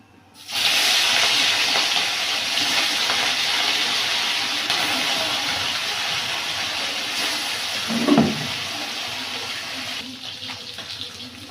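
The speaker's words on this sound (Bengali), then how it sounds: "কড়াইটা গরম হয়ে গেছে, মাছগুলো দিয়ে দেবো।" Fish pieces drop into hot oil in a wok, setting off a sudden loud, hissing sizzle that holds steady and close, with a brief thud partway through and no talk.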